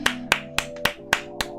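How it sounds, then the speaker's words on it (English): One person claps along to music in a livestream, six sharp, close claps in a steady rhythm over a low music bed. "Round of applause."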